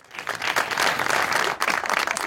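An audience bursts into dense, steady applause for a couple of seconds during a talk show conversation.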